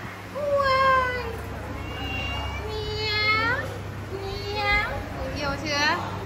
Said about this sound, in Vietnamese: Có cái em mèo này nữa cả nhà nhìn đây.